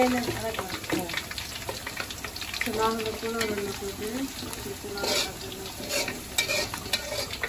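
Meat with tomato and potato fries in a pan while a spoon stirs and scrapes, steady sizzling under a voice talking throughout.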